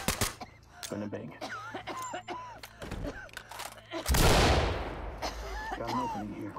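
Gunfire in a SWAT team video game erupts as one loud burst amid radio chatter and voices, with a few sharper shots scattered before it.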